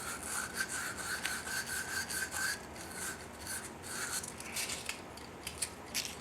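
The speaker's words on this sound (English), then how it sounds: "We're gonna get the sandpaper." Sandpaper rubbing around the neck of a .308 Winchester rifle case in quick short turns, a soft continuous scratchy rasping with small rhythmic swells, faint and close.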